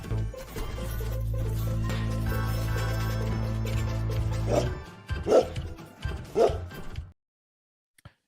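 Dog barking sound effect: a sustained tonal, music-like layer for about five seconds, then three loud, sharp bark-like bursts spaced roughly a second apart, ending in near silence with one faint click.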